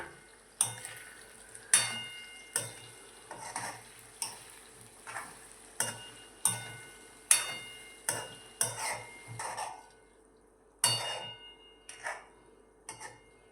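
Rhythmic scraping strokes of a spoon stirring fasting-style dry potato sabzi with sugar in an oily pan, about a dozen evenly spaced close stirs over soft sizzling, no voices.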